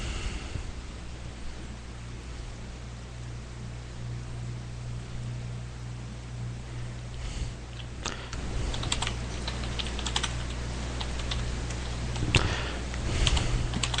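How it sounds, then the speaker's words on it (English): Computer keyboard typing runs steadily through the clip, clicks growing denser and louder in the second half over a low background hum, with no talk. "I just need to finish typing it before I reveal it to you"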